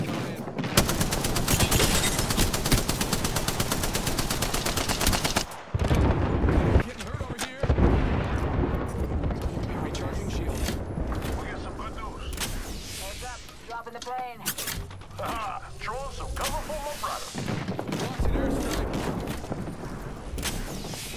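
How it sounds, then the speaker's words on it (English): An incoming airstrike in the Apex Legends battle royale game: a dense barrage of loud, rapid explosions and gunfire pounding continuously, with brief gaps, then the blasts thin out under game voice chatter. "Airstrike coming in."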